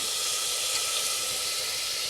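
A steady, loud hiss of sizzling comes from a pan of ginger-garlic masala as green peas are added, with an unbroken frying sound throughout and no voices.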